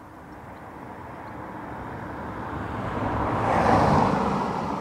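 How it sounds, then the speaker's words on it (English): A Ryanair airliner arriving from Edinburgh at Dublin Airport gives a broad, steady jet roar that swells gradually and peaks near the end, heard from a distance with no voices. "Ryanair from Edinburgh."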